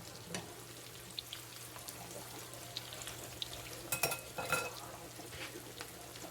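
Food frying in a pan as it is flipped: a steady sizzle with scattered scrapes and a cluster of louder clanks and taps from the turner partway through, close by and without speech.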